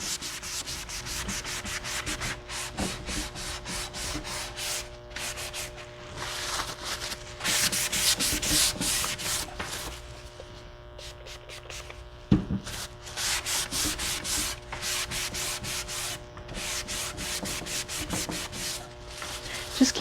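A cloth rubs Easy Peasy wax over a French Provincial dresser painted with Dixie Belle paint, making soft, rhythmic, scratchy strokes that repeat steadily at low volume.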